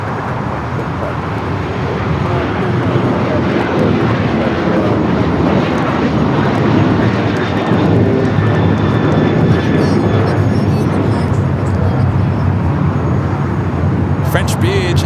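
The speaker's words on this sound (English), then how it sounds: "We do have Condor, the A330neo, heading down for a south side takeoff." A Condor Airbus A330neo takes off from the south side at LAX, a loud sustained jet roar with a broad rumbling engine tone that holds steady throughout, while a commentator talks over it.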